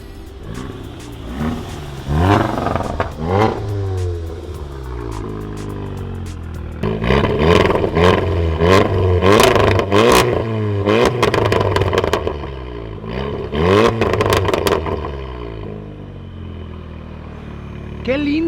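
A car engine revs in repeated rising bursts with a rough, clattery tone, heard close up, with people talking over and between the revs.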